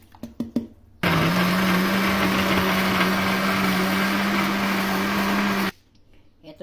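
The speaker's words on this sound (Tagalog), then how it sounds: "Para i-blender na natin." A blender runs steadily for about four and a half seconds, a loud continuous whirring as it purees celery, lemon and ginger juice, starting and stopping abruptly between brief handling clatters.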